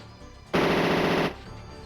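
Submachine gun fire in the MS-DOS mecha game Power Dolls: one loud, dense burst of rapid automatic shots lasting under a second, standing alone with no voice over it.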